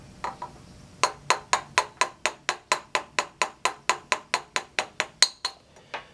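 A steady run of sharp metallic taps, about twenty evenly spaced strikes of a three-sided hammer tapping a tappet out, close and loud, after a couple of lighter knocks.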